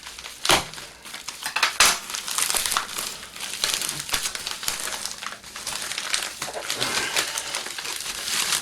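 A sharp knife saws and tears through the packaging of a boxed digital postal scale, giving close, crackly crunching and crinkling with a few sharp snaps.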